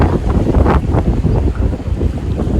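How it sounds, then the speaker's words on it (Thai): Strong wind blows outdoors in an Australian city, a loud, continuous roar that buffets the microphone in rough gusts, with no other sounds standing out. "ลมแรงมาก"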